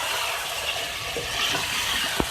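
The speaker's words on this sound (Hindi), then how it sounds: "तो इसके अंदर में जो है ऐड करेंगे 1/2 कप पानी।" Half a cup of water poured into masala cooking in a pan with bay leaves and Kashmiri red chili powder for chicken aloo shorba: a short, close, continuous watery pour and sizzle with a small clink near the end.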